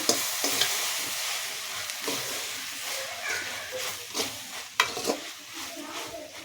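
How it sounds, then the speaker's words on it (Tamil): Small turkey berries (sundakkai) are stirred into a hot frying pan with rock salt for chutney, giving a steady close sizzle broken by spoon scrapes and a few sharp clacks against the pan. "நம்ம இந்த சுண்டக்காய் இதில் போட்டு லைட்டாக மிக்ஸ் பண்ணிவிட்டு"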